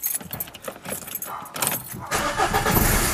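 Keys jangle and a car engine turns over, then runs with a louder, steady rumble close by for the final second.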